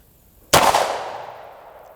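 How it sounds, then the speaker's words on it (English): A single handgun shot fired in single action at a shooting range cracks out loud and close, then rings off in a long fading tail. "You press the trigger, it goes bang."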